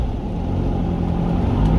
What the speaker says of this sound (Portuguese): Ficou legal pra caramba, ficou um ronco gostoso.